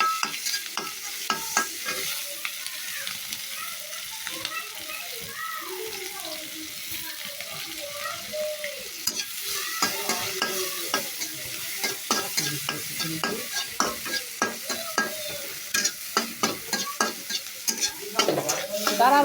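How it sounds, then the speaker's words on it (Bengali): Tilapia fish frying in oil in a village kitchen, a steady close sizzle running throughout with frequent scraping and stirring clatters from a utensil, no one talking. "মাছ ভাজাটা হইতেছে"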